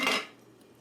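A knife cuts into a cabbage for sauerkraut, one short crisp crunch near the start that fades quickly into quiet.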